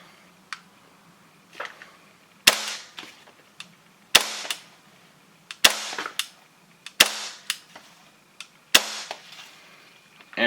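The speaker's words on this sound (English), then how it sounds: "Let me do a little bit of dry fire for you guys." An airsoft gun being dry fired, heard as a series of sharp, loud mechanical snaps about every one and a half seconds, each followed by a brief rattle, with faint clicks between shots.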